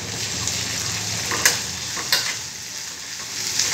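Ginger paste fries in a pan with a constant close hiss and crackle, while a few scraping knocks of a stirring spoon come at irregular moments and no one speaks.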